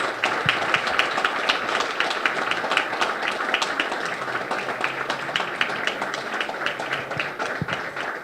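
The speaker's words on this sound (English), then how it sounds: "Let's give one big round of applause to all of our candidates." Steady audience applause at a state representative candidate forum, many hands clapping in a dense, continuous patter that holds at an even level throughout.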